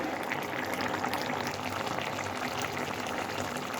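Vegetable curry simmering and boiling in a pan, a continuous busy bubbling and gentle hiss at moderate volume with no talk over it.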